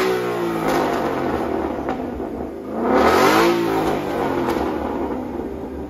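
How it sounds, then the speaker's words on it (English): A 2016 Ford Mustang GT with an E85 tune revs hard from a distance, the engine swelling to a loud roaring peak mid-clip and then easing back to a rumbling idle. "He's gonna do a full rev."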